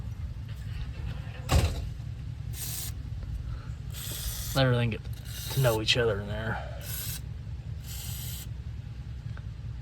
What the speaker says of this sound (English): We got some WD-40. We're gonna spray on this head